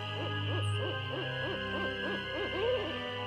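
Bird call in the video game Ghost Dogs of Moon Lake, a rhythmic series of about eight hooting notes, owl-like and evenly spaced, clear and prominent over a steady ambient drone.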